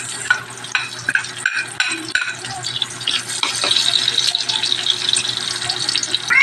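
Onion frying in a pan, a soft crackling sizzle with scraping and stirring rattles that grows denser and louder as it goes, heard alone at close range.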